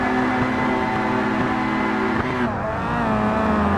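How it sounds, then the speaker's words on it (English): Several race car engines rev loudly and continuously at the start of a race at Oulton Park, pitches shifting together in a dense, buzzing roar that dips briefly before surging again. "the revs are rising"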